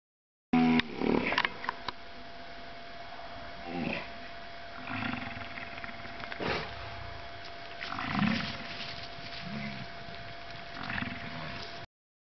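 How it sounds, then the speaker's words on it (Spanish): A buffalo gives low, rough grunting bellows in several spaced bursts over a steady background hum, moderately close and fairly quiet. "Búfalo."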